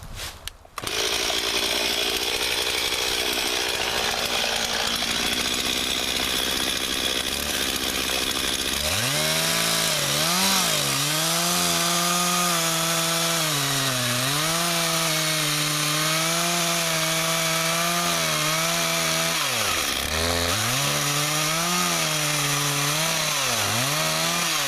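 A chainsaw cuts through a tree trunk during a split-level felling cut, with the tree felled opposite to its lean. The saw is loud and close, idling briefly, then running at full throttle with wavering pitch as it bites into the wood.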